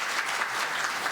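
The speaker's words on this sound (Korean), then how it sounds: "박수 한번 주세요" Steady audience applause at a Won Buddhist year-end service at Wonkwang University, a dense even patter of many hands clapping throughout with no voices over it.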